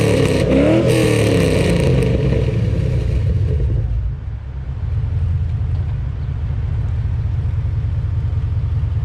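An LS-swapped 1988 Firebird with long tube headers and a full exhaust runs loud and close, a brassy revving note that drops into a deep, steady rumbling idle.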